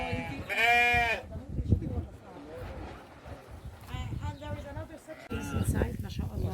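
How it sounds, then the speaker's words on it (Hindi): Dumba sheep bleating on a small farm, with a clear loud bleat near the start and further calls later, under ongoing talk and farmyard background noise. "दुम्बे भी पाले हैं।"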